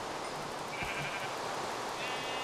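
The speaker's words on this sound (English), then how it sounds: "Okay, sheep." A Minecraft sheep in a modded FTB world gives a short bleat at close range over a constant soft hiss of background noise.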